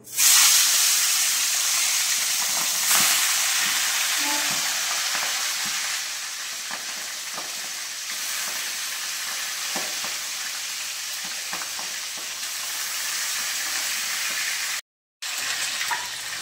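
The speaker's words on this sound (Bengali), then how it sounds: "এবার মাছগুলো আমি ভেজে নেব" Boal fish frying in very hot oil in a home kitchen, a loud close sizzle with bubbling crackle and occasional stirring, steady for the whole stretch with a brief dropout near the end, no voices.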